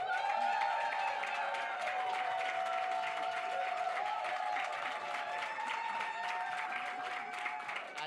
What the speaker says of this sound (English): I'm going to need to hear your claps, your hoots and the hollers